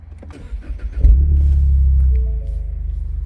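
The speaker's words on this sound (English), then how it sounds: "I'm going to go ahead and start it up for you." A 2021 Ford Mustang EcoBoost cranks briefly, then fires into a loud low rumbling start-up rev before settling into a steady, close idle.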